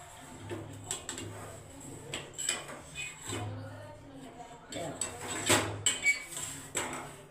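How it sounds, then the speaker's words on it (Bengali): A knife is run around the inside of a ghee-greased bowl of steamed egg curry, making close, intermittent metallic scrapes and light clicks with short pauses between strokes. "এবার এই ছুরিটা দিয়ে এইভাবে একটু বাটিটা চার ধরে ঘুরে দিই"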